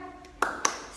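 A class joins in a rhythmic tepuk semangat ice-breaker clapping routine at a morning lesson. Two sharp hand claps land close together, with voices calling out around them.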